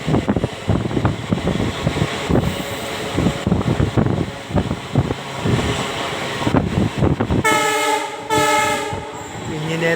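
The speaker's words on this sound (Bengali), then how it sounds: "ইঞ্জিনের থেকে 2 নম্বর বগিতে রয়েছি, যার জন্য ইঞ্জিনের শব্দ একটু বেশি জোরালো শোনা যাচ্ছে" A local train running from Siliguri to New Mal rumbles and clatters loudly from a carriage near the engine, with rhythmic wheel beats and a sustained harmonic horn blast near the end.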